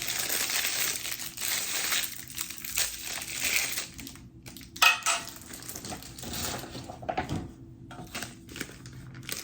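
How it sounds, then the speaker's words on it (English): Plastic wrappers of an MRE spoon and accessories packet being torn open and crinkled, a run of close crackling and rustling bursts with brief pauses. "Now let's open up our MRE spoon and our accessories packet."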